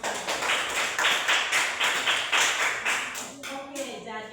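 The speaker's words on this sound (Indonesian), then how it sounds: "Tepuk tangan dulu." A class clapping hands together in a rhythmic, evenly spaced pattern of close, loud claps, ending with a voice speaking briefly at the close.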